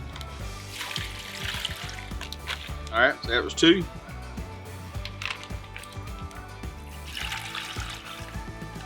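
Water pours and trickles over a specklebelly goose for a marinade of dried onions and peppercorns, splashing in short bursts around the middle, with someone talking throughout.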